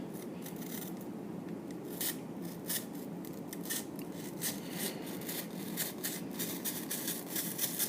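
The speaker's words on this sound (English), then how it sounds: "we're going to make a 45-degree angled incision right here with the blade cutting along the line point." A blade scrapes and scratches through cardboard as an angled incision is cut, a steady close rasping with faint crisp ticks throughout.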